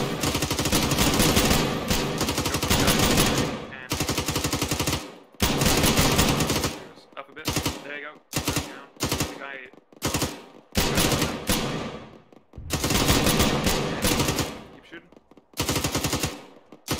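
Heavy automatic gunfire in a military video game firefight comes in long loud bursts with short silent gaps, close and harsh, with occasional single shots between the volleys.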